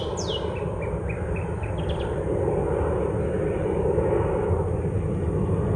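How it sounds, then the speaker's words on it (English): An airplane passes overhead outdoors, giving a steady, broad engine drone that grows slightly louder midway, with a few faint bird chirps near the start. "that's the third plane in less than 20 minutes"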